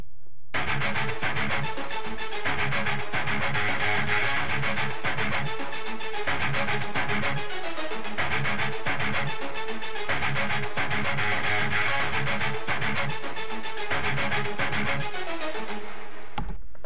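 Synth melody layered with a guitar riff from a song, a loud, dense rock arrangement with driving, rhythmic pulses playing continuously and alone.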